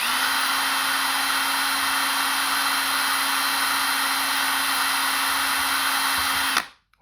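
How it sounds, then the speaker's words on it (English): A power drill with a 2mm bit bores a hole through a plastic part of a bike rear light, a steady high-pitched whine held for about six and a half seconds before it winds down and stops. "make 2 holes through this part using a 2mm drill bit"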